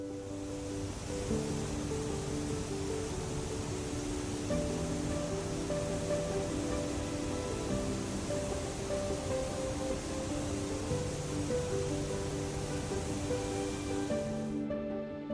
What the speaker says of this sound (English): Cascading dramatically over 98 feet, these are among the largest waterfalls in Southeast Asia.